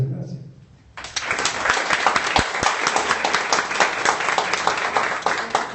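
An audience at a tribute event in Casa de Antioquia bursts into applause after a moment of near quiet, then keeps up loud, dense clapping from many hands, close and sustained.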